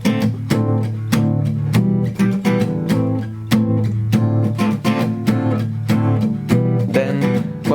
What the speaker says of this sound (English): We can use the palm mute effect.